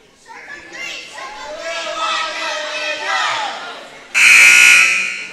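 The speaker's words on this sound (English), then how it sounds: "Here goes the buzzer." A loud, harsh buzzer blares for about a second near the end of a junior basketball game, following a din of children's voices and crowd noise in a gym.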